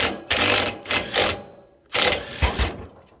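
An impact driver cranks a trailer jack through a stainless steel 1/2-inch adapter, giving two loud bursts of rapid buzzing hammering, each broken by short pauses, close up with no talk.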